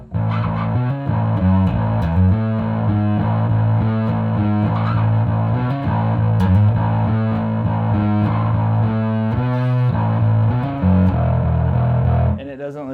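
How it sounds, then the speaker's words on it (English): Bass guitar played through an EarthQuaker Devices distortion pedal, a thick, gloomy, continuous distorted tone with steady low notes that keep their definition and no talking. "a gloomy distortion for gloomier bands than what I'm usually down with for my tone"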